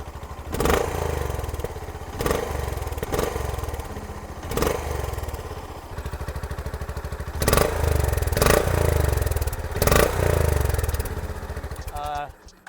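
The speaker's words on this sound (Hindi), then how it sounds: "इसका एग्जॉस्ट नोट जो है वो RS और हाईनेस जैसा नहीं है, ये थोड़ा सा और स्मूथ है" A Honda CB 350 motorcycle engine is started and left running, its exhaust note smooth and fairly subdued with steady low idle rumble and a few sharper thumps and revs, heard up close.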